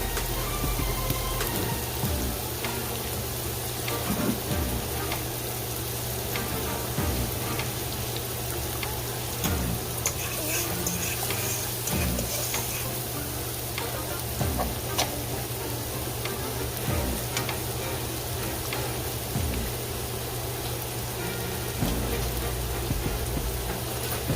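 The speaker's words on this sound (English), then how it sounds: "You're just gonna saute that out a little bit." Garlic and other ingredients sauté in a pot for three-meat pasta, giving a steady, dense crackle like light rain over a constant low hum, with scattered louder pops throughout.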